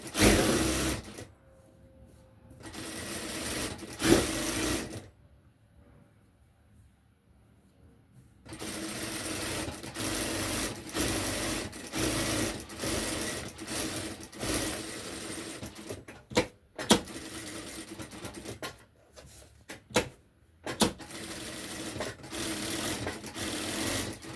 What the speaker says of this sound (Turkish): İnce bir şekilde kenarlarını dikiyorum.